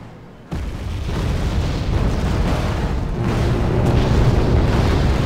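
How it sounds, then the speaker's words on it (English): Artillery rounds pounding down in the Wargame strategy game: a sudden loud onset followed by continuous heavy rumbling booms that roll on without a break, close and dense, with no talk over them. "My artillery going in."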